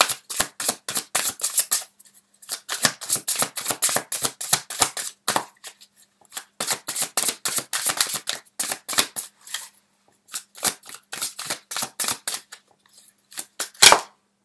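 Tarot cards riffled and shuffled in repeated quick bursts of crisp, close flapping, with short pauses between rounds and a card drawn near the end.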